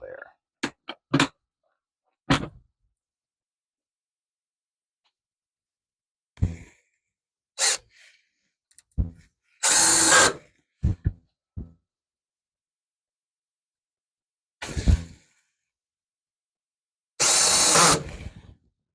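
A power drill drives screws into a wood rack in a workshop, firing in short bursts and a few longer whirring runs separated by silence, with a person breathing and sighing between them.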